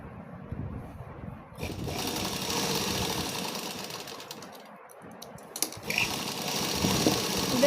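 A sewing machine stitches a flower design onto a pair of pants, its motor running in a steady, continuous whir with brief pauses and restarts, loud and close throughout.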